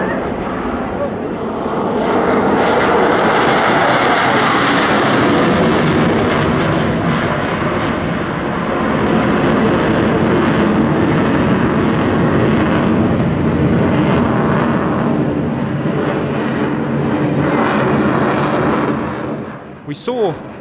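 Su-30 fighter jet performing at the LIMA Langkawi 2023 airshow, a loud, sustained roar of jet engines that swells and surges over about twenty seconds before cutting off abruptly.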